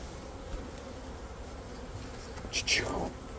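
A low steady hum of many honeybees buzzing around an open hive during an inspection fills the background, with one bee droning loudly close by near the end.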